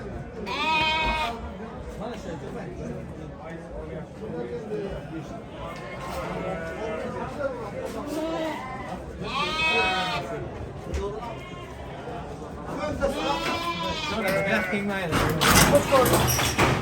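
Sheep and lambs bleat repeatedly at a busy livestock market in Termez, their wavering calls rising over a steady crowd murmur and nearby voices, with a louder clatter near the end.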